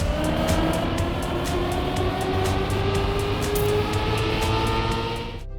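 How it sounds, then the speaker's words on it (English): A racing car's engine roars steadily in the video game Trackmania, a loud sustained rising whine with rhythmic gear pulses that holds close and then drops away abruptly at the end. "Trackmania is a game that is probably one of the most fun racing games that we have played"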